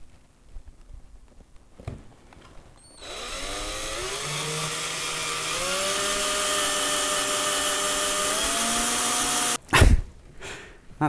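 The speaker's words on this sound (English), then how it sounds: "So let's start drilling." A power drill drilling through plastic whirs steadily for several seconds, its pitch rising and wavering under load, then cuts off abruptly; a couple of clicks and bumps bracket it.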